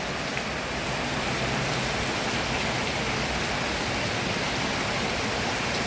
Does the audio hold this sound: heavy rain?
yes